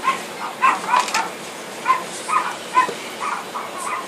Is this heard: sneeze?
no